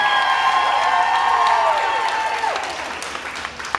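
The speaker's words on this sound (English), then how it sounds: "big round of applause for Gary, hotel director" A cruise-ship audience at a cake challenge breaks into broad applause with scattered cheers and whoops, loud and steady at first, then thinning out toward the end while a tonal voice-like sound carries over it.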